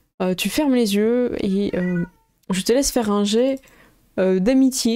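Cat meowing repeatedly in long, pitched calls, three drawn-out meows with brief pauses between them, close and loud, overlapping someone speaking French.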